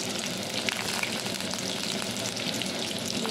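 Spices frying in a pan for a dahi baingan dish, giving an even, continuous close hiss and sizzle with no voices.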